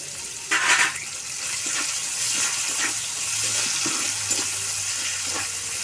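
Green chili and ginger sizzle in hot oil for a spice tempering, a steady close frying hiss with a brief louder burst of spattering near the start and faint stirring clicks throughout.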